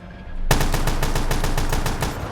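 Automatic gunfire in Black Ops 3 while aiming down sights, a loud rapid burst of evenly spaced shots starting abruptly and continuing steadily to the end.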